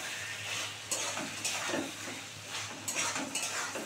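A spice masala is stirred and fried in a pan for a milk and cauliflower dish, a soft sizzle under repeated scraping and clinking of a spoon against metal, fairly quiet.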